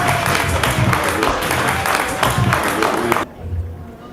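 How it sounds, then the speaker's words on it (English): A luncheon crowd applauds award recipients at a celebration, steady dense clapping with voices mixed in, which stops abruptly near the end and leaves a quieter room. "Please, let's give a round of applause for our recipients."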